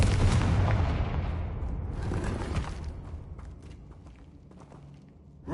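A Confringo fire spell explodes in Hogwarts Legacy with a loud, close boom that rolls into a long rumbling decay over several seconds, scattered with faint thuds and crackles as it fades.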